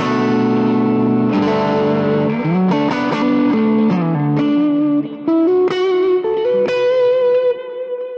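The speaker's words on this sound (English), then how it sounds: "Now this is if you add a little bit of drive, which is a Blues Breaker Morning Glory type of drive." Electric guitar played through a Line 6 Helix with a Blues Breaker, Morning Glory-type drive, sounding a run of sustained, lightly overdriven notes and chords with reverb and echo, loud and steady, with no voices.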